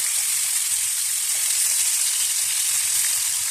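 Anchovies fry in hot coconut oil with curry leaves in a pan, giving a steady, close, bright sizzle and hiss that carries on without pause.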